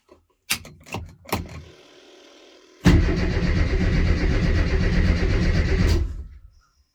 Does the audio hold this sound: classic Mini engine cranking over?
yes